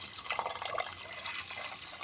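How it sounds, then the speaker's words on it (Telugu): Half a litre of water pours into a pot of washed lentils for a spinach dal, a short, soft, close splashing and trickling. "1/2 లీటర్ వాటర్ పోసాను."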